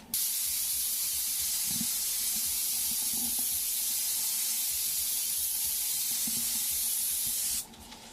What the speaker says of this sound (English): Do both sides at the same time, just a wide spray so it gets on both rolls.